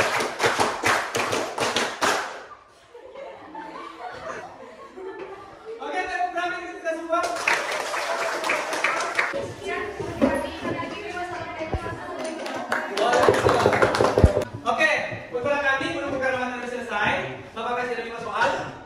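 A classroom of students claps in counted patterns, bursts of one to five quick claps with short pauses between, loud and close, alternating with a teacher's voice calling the counts.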